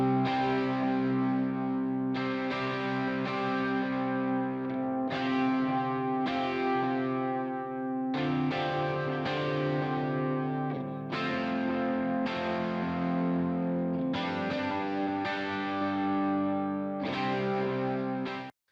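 Distorted electric guitar run through a FabFilter Pro-Q low cut, playing sustained chords that change every couple of seconds in a steady, loud, effects-heavy wash with no talking.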